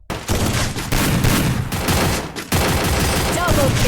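Rapid bursts of gunfire from the Free Fire video game, a dense fusillade of shots running almost continuously with a brief gap, loud and close.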